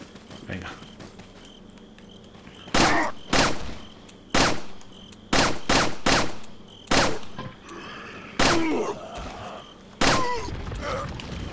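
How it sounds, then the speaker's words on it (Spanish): Gunfire in the Resident Evil 4 remake: a series of loud, sharp shots spaced about a second apart, some in quick pairs, over a steady ambient game background. "Pues me voy a liar a tiros con ellos."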